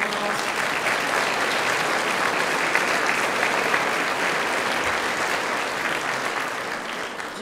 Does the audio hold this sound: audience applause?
yes